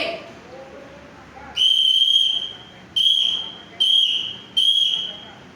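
A loud, piercing whistle sounds Morse code letter B: one long blast followed by three shorter blasts, each separated by a brief pause, close and shrill.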